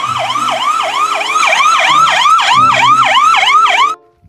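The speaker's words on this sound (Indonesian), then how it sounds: "Lihat, ada mobil ambulan." A loud wailing siren from a toy ambulance sweeps up and down in quick, regular cycles, like a small electronic emergency-vehicle siren, then cuts off abruptly near the end.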